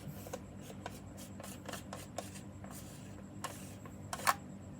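An M39 screw-mount lens being twisted onto a Leica-style rangefinder film camera: soft, close rubbing and ratcheting clicks in a quiet room, with a sharper click near the end.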